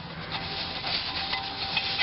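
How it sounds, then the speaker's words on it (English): A scrub brush scrubbing a wet bare aluminum alloy Corvette wheel, a steady close rasping rub that continues without pause. "I'm going to scrub it with a scrub brush"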